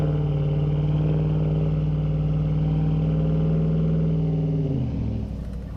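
A Dodge Ram truck on tight canyon roads, its engine holding a steady, loud low drone up close before easing off, with no talking.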